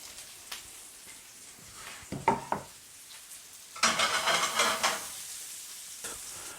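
Mushrooms frying in a pan alongside bacon, quiet sizzling broken by two bursts of scraping stirring, the second longer and louder, all close up with no talk.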